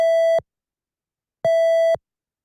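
A synthesized triangle-wave tone from an additive synthesis demonstration sounds in two identical short steady beeps, each under half a second, separated by about a second of silence, clean and without talk.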